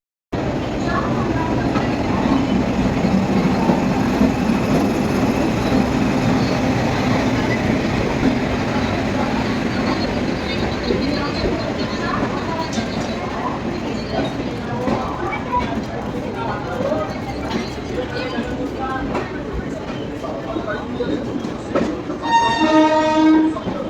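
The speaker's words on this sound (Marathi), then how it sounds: "फायनली आमची गाडी आलेली आहे जिथे जायचं आहे आम्हाला तिथे" A passenger train pulls into a station in Kolhapur, its cars rumbling and rattling loudly and continuously up close, with a horn blast toward the end and voices mixed into the din.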